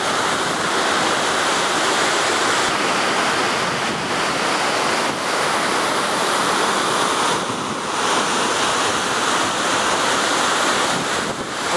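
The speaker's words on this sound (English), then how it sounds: "As you can see, there's a waterfall," Vernal Falls in Yosemite roars as a loud, continuous rush of falling water, mixed with gusty wind buffeting the microphone along the trail.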